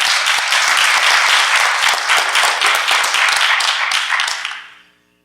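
Steady, dense applause from an audience at a Kali Linux Dojo workshop, holding loud for about four seconds before tapering off into silence.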